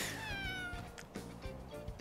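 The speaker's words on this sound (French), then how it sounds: "Il est tout mimi, ce chat." A small kitten mewing close up, a couple of drawn-out high meows followed by shorter soft cries and faint rustling, no voices.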